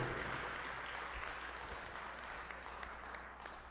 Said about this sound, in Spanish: El aplauso para el Beato.